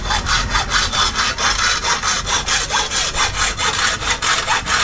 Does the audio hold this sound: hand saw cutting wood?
yes